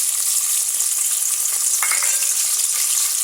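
Onion, garlic and dried chepa fish fry loudly in a pan, a dense, bright crackling sizzle that stays constant from start to finish, with a brief rattle near the middle.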